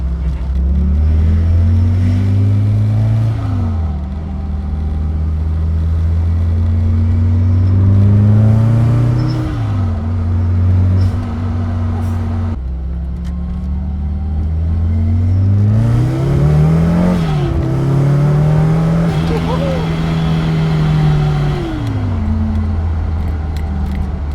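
A supercharged Toyota AE86 with a 7AGZE engine swap (4AGZE and 7AFE hybrid) drives hard, its engine droning loudly from inside the car and repeatedly revving up through the gears, dropping, then climbing again over the whole stretch.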